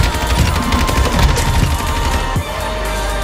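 Rapid automatic gunfire from a Lachmann 556 rifle in a first-person shooter game, loud sustained bursts filling the clip with a brief drop in intensity near the end, no talking.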